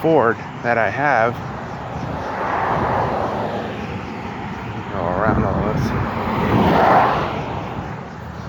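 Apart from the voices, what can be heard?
car engine humming while driving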